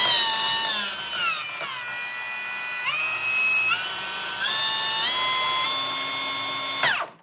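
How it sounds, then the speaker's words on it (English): A Milwaukee cordless saw runs unloaded and close by with a steady whine that drops and climbs in steps as the speed dial is turned down and up, then cuts off sharply at the end. "And here's how it sounds varying the speed dial up and down."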